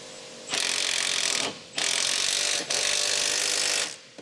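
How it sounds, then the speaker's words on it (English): An electric impact wrench with a 17mm short socket runs three sustained hammering bursts of about a second each, tightening the lower control arm front bushing bolt on a 2007 Honda CR-V; close and loud, no talking. "Use a 17mm short socket with an electric impact wrench to tighten the front bushing mounting bolt of the lower control arm."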